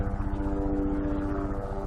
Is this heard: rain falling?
no